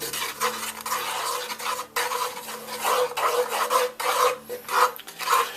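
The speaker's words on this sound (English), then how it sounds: "Now, on this very, very low heat, we're going to stir a little bit more." A cream mixture with eggs and flour for a triple-layer Italian cream cake is stirred in a pot over very low heat, giving a steady scraping, rasping rhythm of repeated strokes, close and fairly loud, with no talking.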